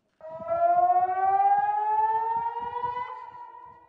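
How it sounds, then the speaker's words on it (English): A civil defense siren wails steadily, its tone rising slowly as it holds one long sustained note, loud and carrying, with no one talking. "The town siren had been triggered"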